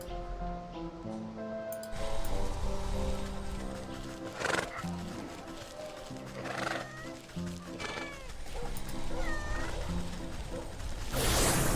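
Cat meows from the Wytchwood video game, several short calls rising over a farmyard soundscape with horse neighs, hooves and background music; no speech.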